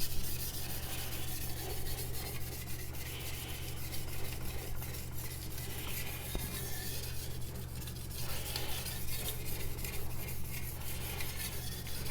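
A CCK Chinese cleaver is stroked across a sharpening stone during polishing, producing steady quiet grinding and scraping strokes with a continuous low hum underneath.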